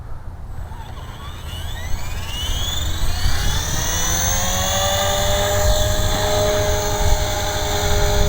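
Radio-controlled aircraft flying in rate mode at a field, a loud continuous motor whine with rising and falling pitch sweeps as it passes and maneuvers, close and steady throughout.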